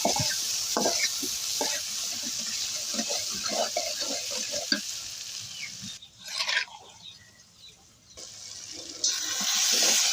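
Jackfruit seeds and chilies frying in a pan of hot oil, with fish also frying nearby, give a steady hissing sizzle broken by repeated spoon scrapes and taps; the sizzle briefly drops away near the end, then returns loudly.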